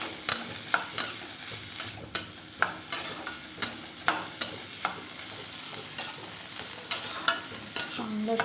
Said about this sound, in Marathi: हे सगळं आपण टाकून दिलं आणि हे सगळं परतून घ्यायचं आहे